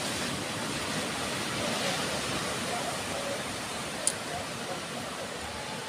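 Small ocean waves at Selong Belanak beach in Lombok, a continuous soft hissing wash of surf at even loudness, broken once by a brief click.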